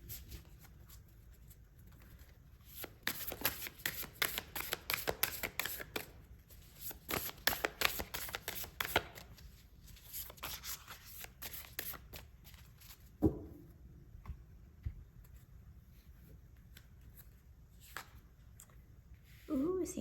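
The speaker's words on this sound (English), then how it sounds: "So let's pull more cards." Oracle cards being shuffled by hand in a quiet room, a soft papery patter of riffles and slides in uneven bursts for much of the time, with brief pauses and a few light taps.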